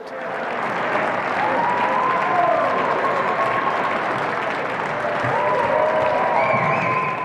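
A stadium crowd applauds steadily and loudly at the finish of a 400 meter race for men over 90, the dense clapping sustained throughout with a faint voice or whistle in the background.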